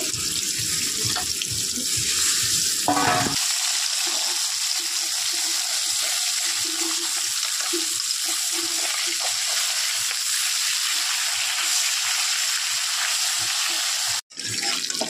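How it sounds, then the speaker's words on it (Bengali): Fish rubbed with salt and turmeric fries in hot oil, browning to a reddish colour. A loud, steady hiss of sizzling runs throughout, with a brief shift near the start and a short dropout near the end. "এখন তেলটা গরম হয়ে গেছে, মাছটা একটু লাল করে ভেজে নেব।"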